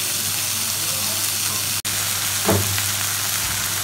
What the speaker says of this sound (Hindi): अब इन सबको भी हम अच्छे से मिक्स कर लेंगे और इसे 5 मिनट के लिए अच्छे से फ्राई करेंगे।